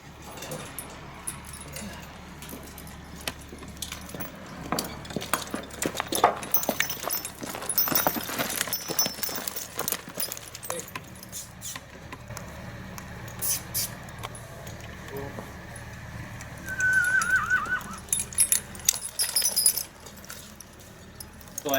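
Horses are harnessed for 1910-style threshing as metal harness fittings jangle and clink in scattered bursts, with hooves shuffling and occasional voices nearby.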